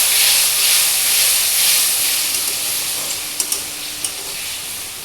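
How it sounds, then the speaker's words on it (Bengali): Mustard masala paste frying in a pan with a little water added, giving a steady bright sizzle and hiss throughout with a few sharp ticks and pops near the end. "এবার এর মধ্যে অল্প একটু জল দিয়ে ভালো করে মশলাটা কষতে দেবো"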